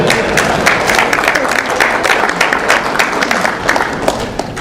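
Loud, dense clapping from an audience at a 2019 mayor's State of the City address, sharp close hand claps layered over a steady crowd roar throughout.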